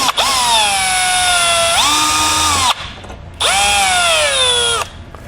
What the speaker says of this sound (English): we'll grab a 7mm socket and pull that out as well